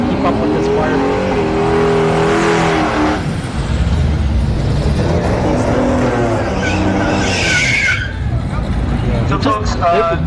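A Firebird drag car at a no-prep race at Orlando Speed World roars through a loud, sustained engine run with rising pitch and tire noise, heard alongside crowd babble and commentary.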